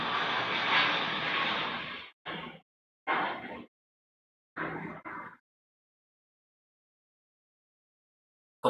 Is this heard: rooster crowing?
no